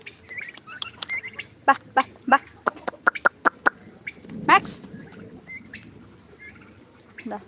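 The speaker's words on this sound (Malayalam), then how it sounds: "ടർക്കി കോഴി ഉണ്ടല്ലേ" A turkey gobbles in a quick series of sharp, rapid calls, joined by black Kadaknath hens clucking and squawking nearby, with a louder burst near the end.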